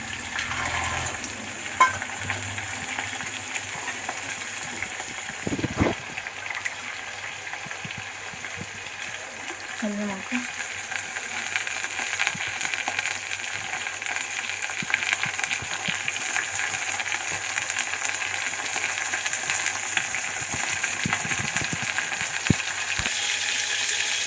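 Peanuts and green chillies fry in hot oil with a steady, even sizzle across the whole stretch, and a few brief stirring knocks come through near the start and midway.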